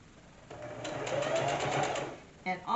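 A sewing machine runs a short back stitch, a fast close whirring burst lasting about a second and a half, with a voice speaking briefly just after it stops.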